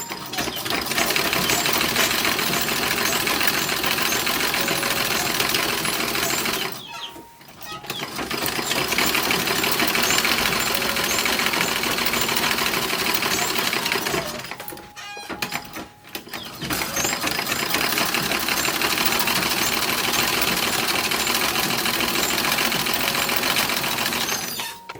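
Sewing machine stitching French seams down the sides and legs of 1910s–1920s style boy toddler underwear, a steady loud mechanical whir running continuously in two long bursts with brief pauses between.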